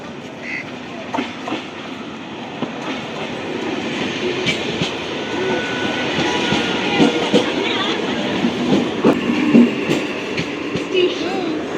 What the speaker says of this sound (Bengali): এখন আসছে ডাউনে গেদে শিয়ালদা লোকাল 2 নম্বরে আসছে।